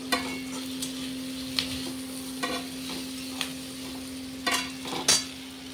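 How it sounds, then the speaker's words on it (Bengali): Prawns fry in hot oil in a home kitchen, giving a quiet, steady sizzle over a low hum, broken by a few sharp scrapes and clinks of stirring. "তো এখানে তো দেখালাম চিংড়ি মাছ ভাজছিলাম।"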